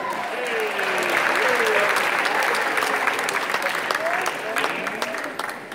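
A lecture-hall audience claps steadily through an inaugural lecture, a dense, constant patter of many hands heard fairly close, with a faint voice singing or calling beneath it.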